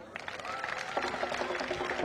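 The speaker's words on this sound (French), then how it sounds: "On applaudit très fort le directeur de cabinet." An audience at a political gathering in Mouila applauds loudly for the chief of staff, dense steady clapping with a few voices and shouts mixed in throughout.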